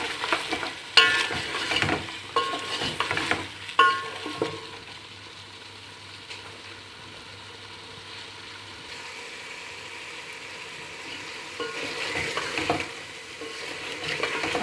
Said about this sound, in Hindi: ये थोड़ा से हम कड़ी पत्ता शामिल कर रहे हैं।